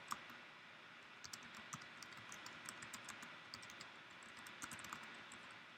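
Quiet, steady typing on a computer keyboard: a continuous patter of light key clicks with a few sharper taps, close but faint, with no talking.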